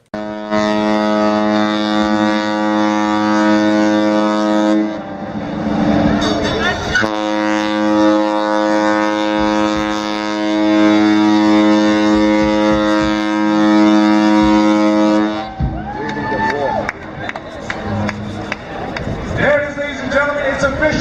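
A loud, deep, sustained horn blast from the cruise ship Crown Princess sounding for long stretches, with a brief break, then crowd noise and voices as it ends.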